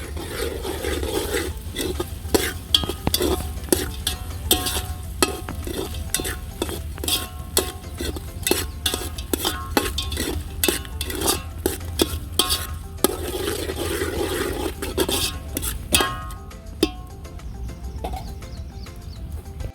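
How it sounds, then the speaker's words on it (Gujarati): Eggplant is mixed into Kathiyawadi khichdi in a pan with repeated scraping spoon strokes, loud and close, in an uneven rhythm under a low frying hiss that goes on for about twenty seconds. "સરખી રીતે હવે આને મિક્સ કરી નાખશું"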